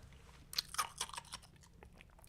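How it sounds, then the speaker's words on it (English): Ice is chewed and crunched up close in a series of sharp, irregular crackles, quiet and alone in a still room. "Crunchy ice. You know I love it."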